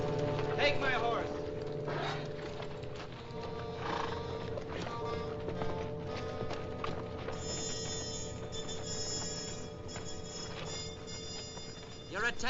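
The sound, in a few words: horse neighing and hooves clip-clopping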